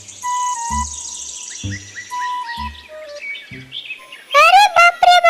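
Cartoon sparrow Tuni chirps in a steady run of bright tweets and trills, with soft thumps underneath, ending in a louder burst of rapid, warbling chirps.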